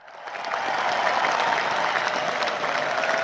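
A studio crowd breaks into applause, rising quickly to a steady, dense wash of clapping that holds at full strength to the end.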